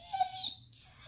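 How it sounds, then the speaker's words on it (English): A dog gives a short, thin, high-pitched whine in two quick pulses, followed by quiet and a sharp click at the end. "No more barking at me because you wanted to go for a walk."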